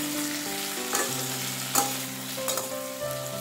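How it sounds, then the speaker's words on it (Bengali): Potato and papaya pieces fry in hot oil for a vegetarian dish, a steady close sizzle with a few scraping stirs, no voices. "এবার আলু আর পেঁপেটাকে খুব ভালো করে ফ্রাই করে নিচ্ছি"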